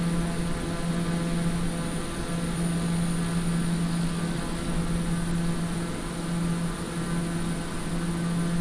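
A Daher TBM 930 turboprop cruising in a flight simulator gives a steady, even drone with a low hum and broadband engine roar, holding constant throughout with no talking.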